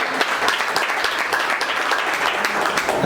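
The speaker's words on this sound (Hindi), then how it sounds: "एक बार जोरदार तालियां आपके लिए।" Clapping fills a field leaders' meeting as the audience gives a hearty round of applause: many hands at once, a thick, even patter held at a moderate level for the full stretch.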